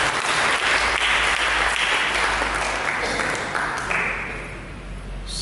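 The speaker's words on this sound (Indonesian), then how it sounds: "Berikan tepuk tangan bagi Tuhan." A church congregation claps together during a sermon, a dense, loud burst of applause that holds steady and then begins to taper off over a few seconds.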